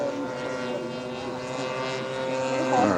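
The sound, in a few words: radio-controlled model airplane approaching to land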